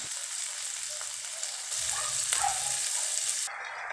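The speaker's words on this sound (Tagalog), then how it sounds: "gigisahin ko lang po dyan" Onion and tomato sautéing in a pan before mussels go in, a continuous close sizzle and frying crackle with light stirring scrapes, briefly louder midway, no voices.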